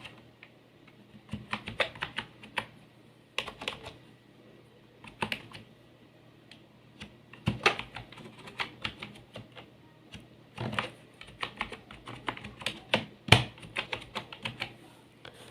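Typing on a computer keyboard in bursts of quick clicking keystrokes separated by short pauses, close and clear with no talking over it.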